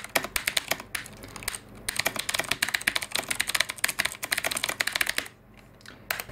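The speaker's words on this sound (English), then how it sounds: "They're designed to give you that, beautiful tactile response from your typing experience" Fast typing on a Das Keyboard mechanical keyboard produces a dense, close stream of crisp key clicks in quick bursts, with a brief pause near the end before a few more strokes.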